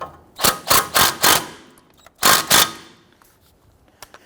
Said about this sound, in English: Tighten down the nut here.